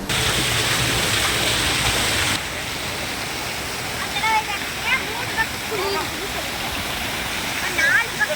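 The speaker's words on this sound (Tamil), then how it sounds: "கொட்டுற தண்ணியோட அடர்த்தி வந்து ரொம்ப குறைவாக இருக்குது" Water pours steadily down a waterfall at the Palakkarai canal, a constant broad rush that drops to a softer level partway through, with faint voices and bird calls above it.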